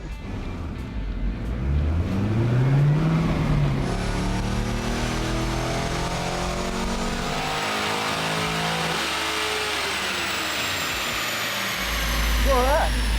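A C5 Corvette Z06 with bolt-on power mods revs hard on a dyno, its engine note sweeping up through the gears in a loud, sustained wail before backing off near the end.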